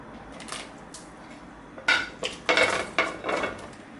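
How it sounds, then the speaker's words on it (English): Chopped carrot and green papaya going into a pot of simmering beef soup, a few sharp clattering knocks of metal utensils against the pot in quick bursts, close and loud against a quiet background. "right now I'm going to add carrot and papaya."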